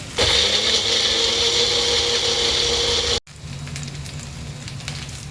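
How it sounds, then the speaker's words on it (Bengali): A kitchen blender grinds garlic, ginger, mustard and a green chilli into paste, with a loud steady whirring roar for about three seconds before cutting off abruptly, then a softer rattling hum continuing. "রসুন, আদা, সর্ষে আর একটা কাঁচা লঙ্কা দিয়ে পেস্টটা তৈরি করে নিচ্ছি"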